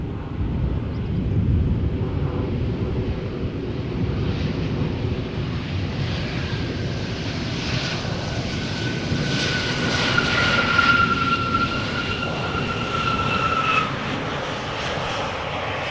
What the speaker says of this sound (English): You might also hear an airplane flying over that just took off from runway 24.